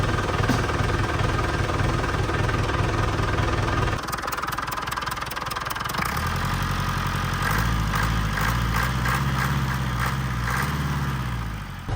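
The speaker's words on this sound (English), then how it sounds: "it seemed to be helping the engine to run a bit smoother" A Range Rover Classic engine runs after a new fuel filter was fitted, idling steadily at first, then dropping and settling into a deeper, rougher rumble with a faint knocking quality, close and continuous throughout.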